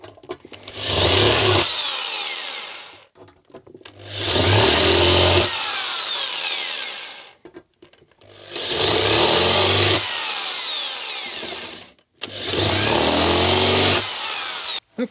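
A power drill bores into a trash-picked metal cash box in four bursts of several seconds each, a loud whining grind with short quiet gaps between.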